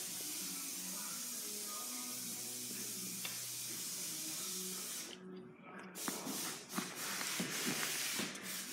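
Spray paint can hissing onto car fenders during a home paint job, a steady close spray that sputters and cuts out midway, then resumes in short bursts.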